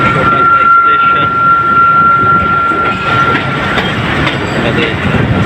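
A passenger train on the Rohri to Larkana line runs along the rails with a steady loud rumble and faint clickety-clack, a thin tonal whine over the first half, from inside the carriage.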